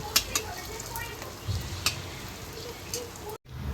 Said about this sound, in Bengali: এরকম লাল লাল করে ভেজে নেব